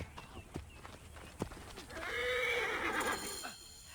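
A horse neighs loudly in a long, rising whinny in the video game Assassin's Creed Origins, preceded by scattered hoof clops and thuds.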